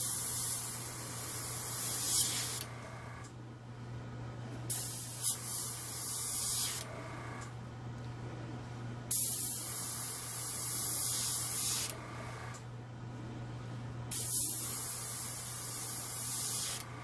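Air blown in repeated bursts across alcohol ink on an acrylic-veined flower painting, a close breathy hiss lasting a couple of seconds each time with short pauses between, over a steady low background hum.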